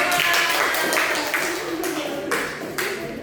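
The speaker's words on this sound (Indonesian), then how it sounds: "beri tepuk tangan teman-teman" Classmates clap for a student during a school lesson, a loose patter of hand claps with periodic bursts, fairly close in a small room, with voices faintly mixed in.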